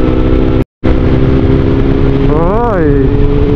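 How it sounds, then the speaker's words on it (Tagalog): A motorcycle emerges on the right during a group ride on a Mindoro loop road. Its engine whine swells and bends in pitch around the middle, close by, over steady wind roar and the rider's own engine drone. "may lalabas na motor sa kanan."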